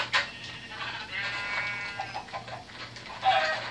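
A sheep in a video game bleats in short, wavering calls over a steady low background hum, with no talking.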